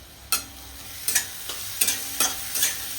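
Two chopped medium onions being stir-fried in a pan with green cardamom until reddish, a low sizzle broken by five or six sharp spatula scrapes in an irregular rhythm, close by with no talk.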